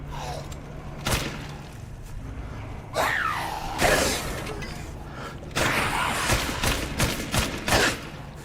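Sporadic gunshots in a Resident Evil game, single sharp shots scattered across the clip with some louder bursts and mechanical clatter between them, close and punchy with occasional grunts.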